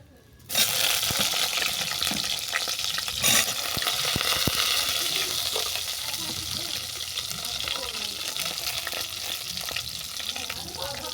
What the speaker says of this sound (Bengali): এই তেলের মধ্যে বেগুনটাকেও ভেজে নেব